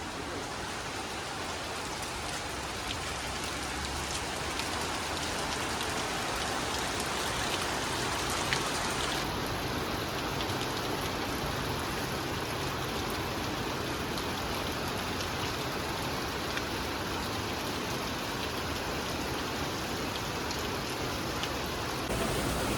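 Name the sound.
heavy rain falling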